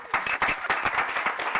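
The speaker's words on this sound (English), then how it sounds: "Round of applause for Adam." A conference audience claps for a speaker introduced to give a talk on progressive software delivery, a brief burst of close, dense handclaps.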